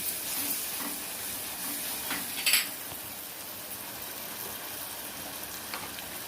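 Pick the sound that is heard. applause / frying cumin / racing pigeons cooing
frying cumin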